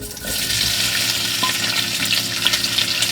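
Onions sauté in hot oil, giving a dense, steady hiss of sizzling that stays loud and even throughout, close up with no talking.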